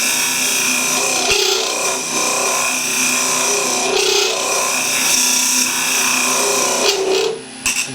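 Scraper cutting inside an ash hollow form spinning on a lathe, a loud steady whirring hiss with a constant motor tone, swelling briefly as the tool bites, then tapering off near the end.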